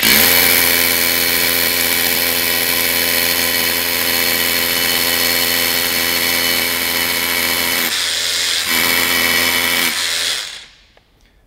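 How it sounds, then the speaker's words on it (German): A Hilti T6A cordless rotary hammer with a classic spiral bit drills downward into concrete on a construction site, a loud, steady hammering whine running for about ten seconds before cutting off abruptly. "mit unserem Bohrhammer T6A, Akkubohrhammer und dem klassischen Wendelbohrer"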